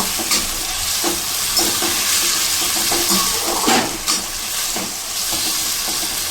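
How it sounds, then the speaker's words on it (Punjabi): Taro root (arbi) frying in hot oil for a gravy curry, a steady bright sizzle with scraping stirring strokes and occasional louder bursts, close and continuous, no talking. "ਅਸੀਂ ਇਹਨੂੰ ਚੰਗੀ ਤਰ੍ਹਾਂ ਫਰਾਈ ਕਰਾਂਗੇ ਜਦ ਤੱਕ ਸਾਡੀ ਅਰਬੀ ਲਾਲ ਨਾ ਹੋ ਜਾਵੇ"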